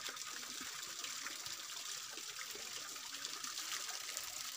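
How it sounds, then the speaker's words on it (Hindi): Cold spring water flows in the mountains in a continuous soft gush and trickle, a steady hiss that is fairly faint and has no voices over it. "ठंडा ठंडा पानी, पहाड़ का पानी कितना अच्छा रहता है"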